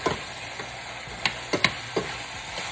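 Burrito vegetables sizzle in a frying pan while a utensil stirs them, with a steady hiss broken by several sharp scrapes and clacks. No one talks.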